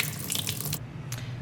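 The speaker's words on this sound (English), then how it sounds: "And then rinse it. And then basically pour it out." Rinse water is poured out of a jar of buckwheat in a steady, close splashing rush that stops abruptly, then one brief final splash trickles out.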